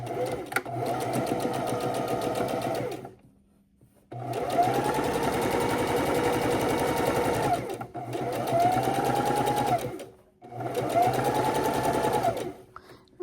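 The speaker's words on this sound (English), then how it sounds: "we're going to do 2 parallel lines of stitching" A sewing machine stitches two parallel lines on a pillow in four loud, close runs of rapid, even needle chatter. Short silent pauses separate the runs.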